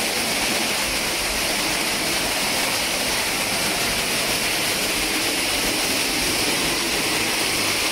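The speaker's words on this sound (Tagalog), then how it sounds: "Dito, may falls ahead." Constant roaring rush of an indoor waterfall at teamLab in Tokyo, Japan, loud and unbroken from start to finish, with no voices over it.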